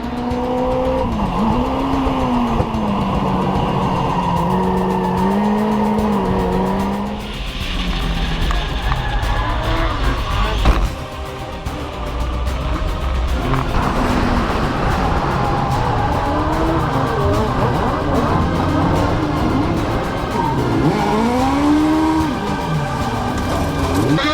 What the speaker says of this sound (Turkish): Hadi bir spin var. Orada bir spin var. Düzeltmeye çalışıyor.